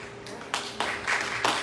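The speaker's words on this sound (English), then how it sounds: "Yes, clap." Audience applause at a bisexuality community conference, a short burst of scattered clapping rising in a few quick swells over about a second and a half, moderately distant and fairly soft.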